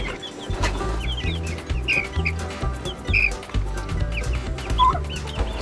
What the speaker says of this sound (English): So, we are inside the coop itself. You can see all the birds running around